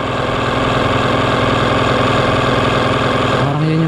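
An electric seed and fertilizer spreader's motor runs at a steady, loud, even drone, dropping in pitch just before the end.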